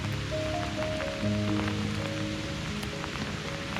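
Rain falling steadily at a lake, a dense even patter on surfaces with a constant hiss, mixed with a soft low tonal hum throughout.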